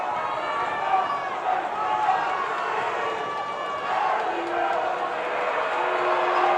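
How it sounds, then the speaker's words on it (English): A basketball crowd at a boys' high school playoff final roars and shouts a sustained distraction noise during a free throw, a broad rumbling wall of voices that swells and holds, with an announcer talking over it. "Amherst crowd likes that. Yes, they're trying to do the distraction noise."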